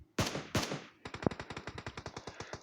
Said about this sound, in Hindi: काफ़ी वक्त से रेड डॉट के ऊपर स्कारल की गोलियां वेस्ट कर रही है उनको